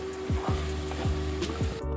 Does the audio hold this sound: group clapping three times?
no